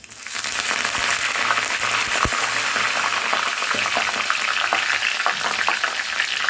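Curry leaves sizzle and crackle in hot oil for a tempering of pepper and cumin for milagu pongal, a dense, steady frying hiss with sharp pops throughout, close and loud.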